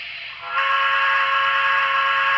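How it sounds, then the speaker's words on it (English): A sustained, steady steam whistle tone from an N scale USRA Mikado model locomotive, with layered harmonics, starts faint, then swells to full loudness after half a second and holds without a break. "start playing the whistle and then use the throttle"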